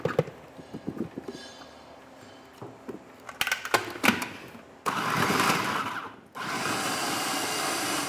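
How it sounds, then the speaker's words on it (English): A food processor purees onions, cilantro and peppers, starting with clattering handling sounds and then running in two loud, steady whirring bursts of a few seconds each, separated by a brief pause. "We're going to take these to a food processor. We're going to puree those up."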